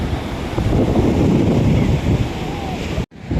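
Broadband surf roar of sea waves washing onto the shore at Paradip, steady and loud, mixed with wind buffeting the microphone, with a brief dropout near the end.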